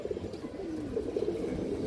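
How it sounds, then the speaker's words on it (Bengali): A male silver pigeon gives a soft, low, rolling coo, quiet and close, over a faint background. "সিলভার বাঁকড়া একটা নর কবুতর"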